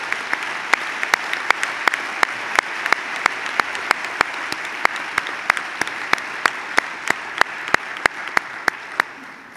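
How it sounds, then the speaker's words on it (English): Steady audience applause for faculty, students and staff at a university academic-year opening, a loud continuous wash of clapping from a large crowd, with one nearby pair of hands cracking sharply in a regular beat over it. "So why don't you clap for a minute for faculty, students, and staff"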